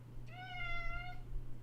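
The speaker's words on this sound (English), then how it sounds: "I have a cat." A house cat gives a single drawn-out meow at fairly close range, sounding over a steady low electrical hum and room noise.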